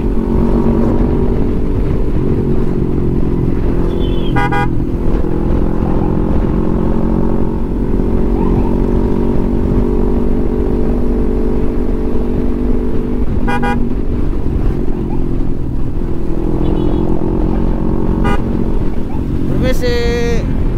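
A steady motorcycle engine drone on a road in Sulawesi fills the whole stretch, loud and close, with a few brief horn toots cutting through.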